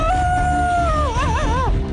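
A person's voice imitating a dog howling, one sustained high note that breaks into a wavering, quavering tail before fading, loud and close over a noisy studio background.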